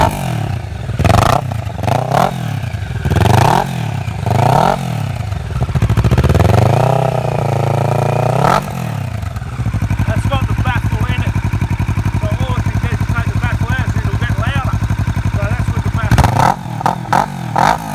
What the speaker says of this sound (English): Sounds like a motorcycle. Doesn't sound like a government car.